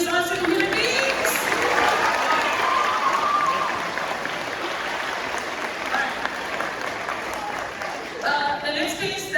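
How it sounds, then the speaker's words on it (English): An audience at a spring concert applauds in a dense, sustained wash of clapping that fades slightly toward the end, with a few scattered cheers and some talk mixed in. "One more round of applause for these awesome human beings."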